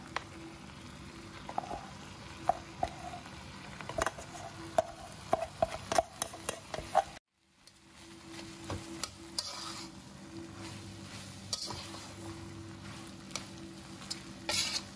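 Rice is tossed into a pan and stir-fried for squid ink fried rice, with a quiet sizzle and frequent sharp scraping clicks of a spatula, briefly cutting out midway before the stirring resumes.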